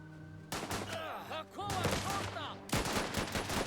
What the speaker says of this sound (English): Run over here and shoot him, please.